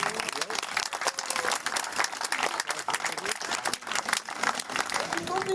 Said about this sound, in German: Ich finde, da gibt es mal einen Applaus für.